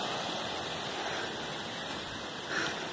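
Steady, unbroken rush of a waterfall heard from a trail above on the tropeiros route in Tajuvas, Morrinhos do Sul; a constant broadband roar with no pauses and no voices.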